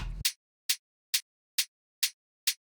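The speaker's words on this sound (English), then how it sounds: "So this is the hi-hat." Isolated hi-hat track from an electronic music mix: six crisp, evenly spaced ticks in a steady rhythm, bright and clean against silence, preceded by a brief low thump at the start.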